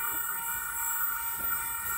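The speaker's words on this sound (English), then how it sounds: "Coming through to platform number two is a Newcastle service" A Newcastle-line service train pulling in to the platform at Wondabyne Station in New South Wales, heard as a steady, loud rail rumble with a sustained high-pitched whine throughout, no talking.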